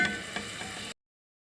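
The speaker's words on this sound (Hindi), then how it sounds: "तो थोड़ी देर फ्राई कर लेंगे इसमें" Qeema (minced meat) frying in a pan, with a soft, steady sizzle and a few light stirring knocks for just under a second before it cuts to silence.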